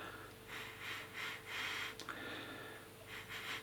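Someone sniffing a piney beer, with several soft, short inhalations in a loose rhythm, close and quiet, and no talk.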